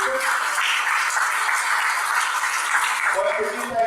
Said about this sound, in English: One of the few times I get the round of applause